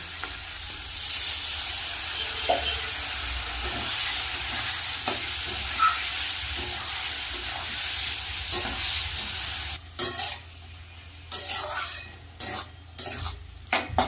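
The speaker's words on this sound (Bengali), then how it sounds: "মশলা ভালো করে কষিয়ে নিয়েছি তেলও ছেড়ে দিয়েছে" Spice paste for a fish curry sizzles steadily in hot oil while a utensil stirs and scrapes through it; the frying grows quieter and more broken toward the end, with no voices.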